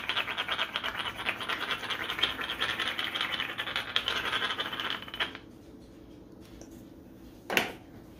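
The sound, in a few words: salt being ground onto food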